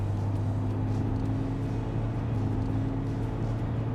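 A 2025 BMW X3 drives on a smooth German road, heard as a steady, low engine and road drone with a faint tonal whine, constant and unchanging without any talk.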